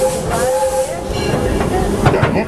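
The Disneyland Railroad steam train rolls along at Disneyland, a steady rumble and hiss with faint whistle-like tones and a few clanks near the end, with voices audible over it.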